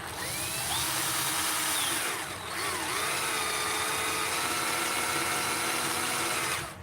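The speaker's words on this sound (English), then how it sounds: "I'll just line up my drill here, and forgive the drill noise." A high-pitched power drill whines steadily and loudly, drilling out a metal rivet on a Hot Wheels toy car with a brief dip in pitch midway, then stops at the end.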